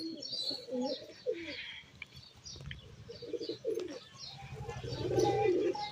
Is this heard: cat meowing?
no